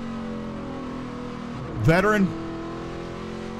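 Onboard with a stock race car in a Super Cup Stock Car Series race, the engine drones steadily, rising into a brief swelling, pitch-bending roar as another car passes, under continuous commentary.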